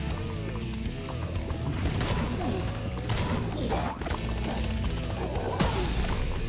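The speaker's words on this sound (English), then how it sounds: "Did you just kill him with a jackhammer?" Jackhammer in the video game Spyro 2: Ripto's Rage (Reignited), a rapid pounding rattle with crunching impacts mixed into busy game sounds and music, continuous and fairly loud.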